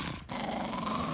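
A dog growls in a British horror radio drama, a steady low rumble that fills the brief moment with no speech over it.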